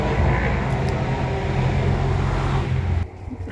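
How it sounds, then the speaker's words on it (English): Road traffic streams past near a road crossing on a rural walk, with motorbikes among it, a loud continuous rushing roar that drops off abruptly near the end. "You can probably hear the traffic."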